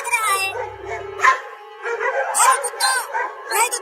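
Cartoon dogs from a Hindi comedy cartoon, with barks and howl-like yips rising between and over animated character voices talking throughout, moderately loud and close.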